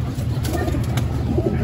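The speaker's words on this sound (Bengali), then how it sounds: "কবুতরটা অনেক হাঁপায় আছে" A pigeon coos softly in low, rolling pulses against a steady background, with no clear panting audible.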